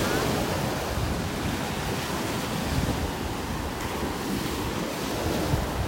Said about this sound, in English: I can hear that wind.